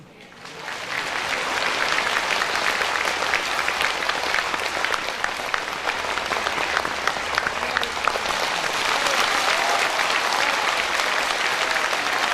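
Sustained applause from a large audience at a Lunar New Year and international meditation retreat gathering, rising quickly after a quiet first second and continuing as a dense, steady clapping wash for the rest.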